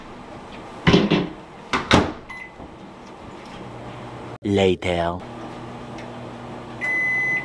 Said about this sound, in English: Time to destroy this thing in the microwave.